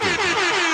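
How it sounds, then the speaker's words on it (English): A loud, blaring air horn sound effect rings out in one continuous brassy blast with a slightly wavering pitch, filling the moment on its own. "I need an air horn for that"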